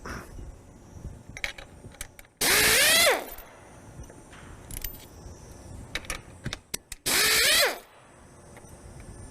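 A power tool backs bolts out of a Blacoh pump dampener housing in two loud, sharp bursts about five seconds apart, with small metallic clicks and handling clatter between them.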